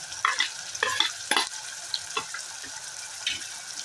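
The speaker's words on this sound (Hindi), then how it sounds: "तो यहाँ पर मसाला भून रहा है" Spice masala with chopped tomato and green chillies sizzles in a pan for chana dal with ridge gourd, with close, irregular scraping stirs over a soft, steady frying crackle.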